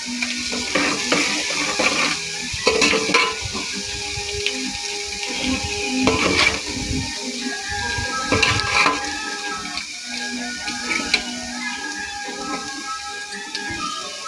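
Ginger garlic paste and tamarind pulp sizzle in hot oil while a spoon stirs and scrapes against the pan, with soft frying crackle and intermittent metallic clinks throughout.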